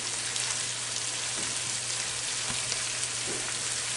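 Butter and garlic sizzling loudly in a pan as the hot fat is spooned over a seared lobster, a dense continuous crackle with occasional soft spoon taps, no voices.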